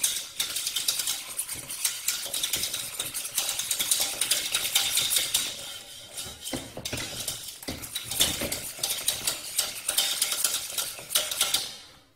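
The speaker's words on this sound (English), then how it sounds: "a second third of the milk and stir that in" Metal utensil stirring milk into a smoked haddock soufflé base in a pan, with repeated scraping and clinking strokes at a steady rhythm, close and moderately quiet, with no talking.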